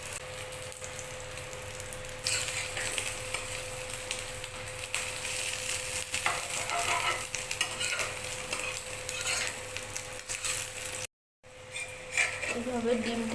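An egg omelette fries in a pan with a continuous close sizzle and scattered spatter crackles, plus occasional scraping as it is turned. The sound cuts out briefly near the end, then resumes.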